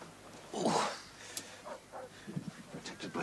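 Several dogs bark and yip near a railway embankment by a river, short irregular outbursts at moderate distance, with a voice speaking intermittently.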